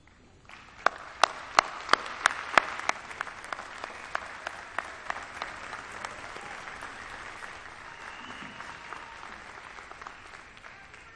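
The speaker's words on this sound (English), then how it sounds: "join me in thanking them for all of their support and give them a well-deserved round of applause" Graduates at a Fitchburg State University commencement applaud their families. A few loud, sharp claps come first, then a broad, sustained wave of applause that slowly tapers off.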